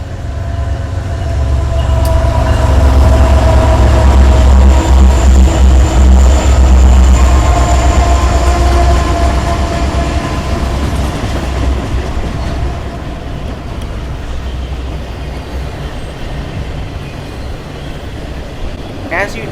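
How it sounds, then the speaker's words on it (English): A long intermodal freight train rumbles past close by, heavy low-frequency roar with wheel clatter, swelling early then slowly fading as cars continue rolling through. "another eastbound intermodal train made its way through on the Chillicothe subdivision."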